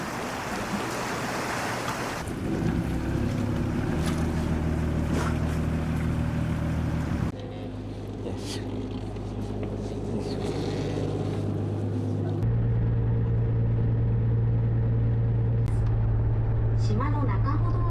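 A sightseeing cruise boat on the sea at Izu, Shizuoka, gives a steady close engine drone with rushing water. The hum's pitch shifts a few times, and people talk over it.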